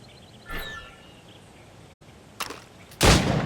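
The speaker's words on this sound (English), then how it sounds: "Go on. Shoot these targets." Three gunshots at targets in Assassin's Creed Rogue: a sharp shot near the start, a second about two seconds later, then a loud, close blast near the end, with quiet ambient background between.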